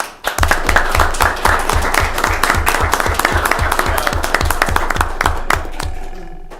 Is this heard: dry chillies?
no